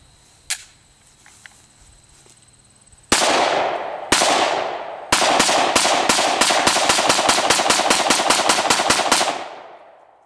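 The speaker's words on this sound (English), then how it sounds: "Now I'm going to run through 20 rounds relatively quickly with this thing" An FN Five-seven tactical pistol fires about 20 rounds loud and close, two spaced shots and then a rapid, steady string of sharp cracks with ringing decay, ending abruptly.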